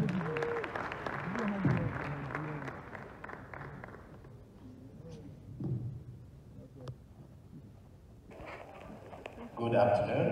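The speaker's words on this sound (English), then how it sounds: "give him a round of applause again" An audience at a student innovation challenge event in a hall gives a round of applause that starts strong under speech and then tapers off, before a speaker begins addressing the room through a microphone.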